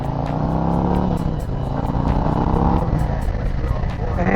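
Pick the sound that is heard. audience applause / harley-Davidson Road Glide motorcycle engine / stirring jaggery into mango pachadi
harley-Davidson Road Glide motorcycle engine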